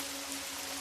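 Rain falls steadily as a constant, even hiss with no breaks, and a faint low hum sits underneath.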